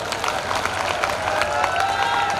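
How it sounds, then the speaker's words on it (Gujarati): Dense applause from a crowd at a Gujarati dayro folk music performance, many hands clapping continuously at an even level throughout, with a faint murmur of voices underneath. "તાળી પાડો તો વાંધો નહીં"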